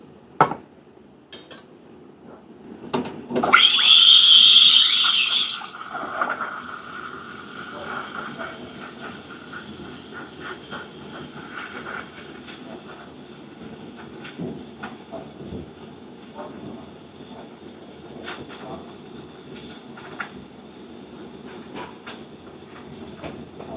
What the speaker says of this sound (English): Right, let's steam the milk.